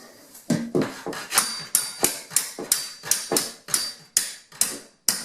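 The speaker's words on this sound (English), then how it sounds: "for last and least is the bottom hinge pin. I'll tap that one down likewise, same kind of fashion." Hammer tapping a door's bottom hinge pin down, a dozen or so sharp metallic taps in a steady, evenly spaced rhythm, close and clear with no talk.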